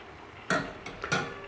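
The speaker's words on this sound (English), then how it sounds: "So I'm just going to add another ladleful" Stock ladled into a pot of risotto, two quick wet splashes with a metallic clink of the ladle against the pot, close and fairly quiet.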